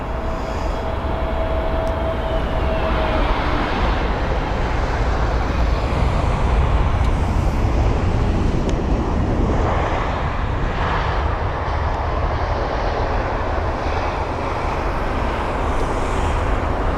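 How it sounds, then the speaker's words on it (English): An airliner arriving on runway 27 right at London Heathrow, a loud continuous engine roar that holds steady for the whole stretch, with no voices. "So 4 aircraft, including this one, in line for an arrival here at runway 27 right."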